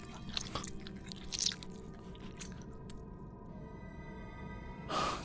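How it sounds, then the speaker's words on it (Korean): Wet eating noises in a Korean horror radio drama: close biting, chewing and slurping with squishy crunches, a brief louder burst near the end, no voices. "이제 먹는 소리가 들린다. 뭔가 후루룩거리면서 킁킁거리는 소리도 들려왔어."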